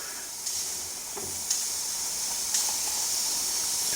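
Fifty millilitres of stock reducing in a pan for a lamb and rosemary sausage gravy, giving a steady soft hiss and sizzle with a few faint clicks, close and alone with no talk.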